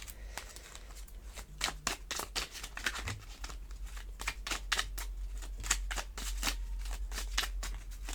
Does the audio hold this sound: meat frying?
no